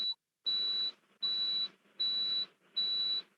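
A fire alarm beeps through an open microphone during an online meeting, four evenly spaced, sustained high-pitched tones, each lasting about half a second, heard alone and fairly clear.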